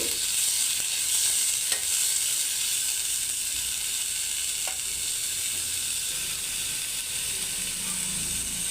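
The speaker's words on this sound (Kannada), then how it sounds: "ಈ ತರಕಾರಿಗಳೆಲ್ಲ ಒಂದು ಎಣ್ಣೆಯಲ್ಲಿ ಸ್ವಲ್ಪ ಒಂದೆರಡು ನಿಮಿಷ ಫ್ರೈ ಆಗಲಿ" Vegetables frying in oil for vegetable upma give a steady, fairly loud hiss that runs the whole time, broken by a few faint clicks of stirring.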